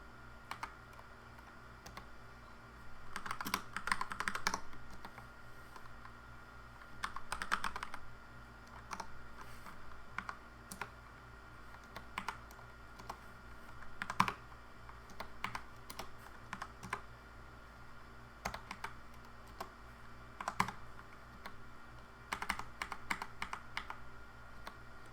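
Quiet, close typing on a computer keyboard to log into a router over telnet, with irregular bursts of keystrokes and short pauses between them.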